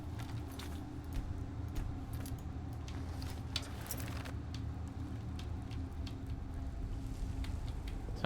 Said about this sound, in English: Those are rattly bones.